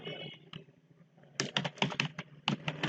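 HTML code is typed on a computer keyboard: a few scattered keystrokes, then a rapid run of close, clicky key presses.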